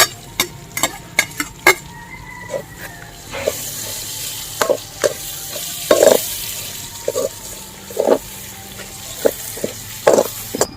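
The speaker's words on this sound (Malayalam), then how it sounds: "നമ്മൾ ഈ മീൻ വറുത്തെടുത്ത ആ എണ്ണയിൽ തന്നെ ഇട്ടിട്ടാണ് സബോള നമുക്ക് വഴറ്റിയെടുക്കുന്നത്" Onions sizzling and frying in hot oil left from frying fish, with a spatula scraping and stirring the pan in irregular clicks and knocks.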